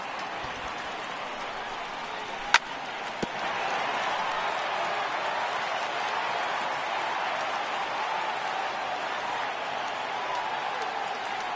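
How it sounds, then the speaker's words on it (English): A stadium crowd in a baseball video game roars steadily and loud for several seconds, a continuous wash of cheering with a couple of sharp clicks early on. "Crowd gets up for the 3-2."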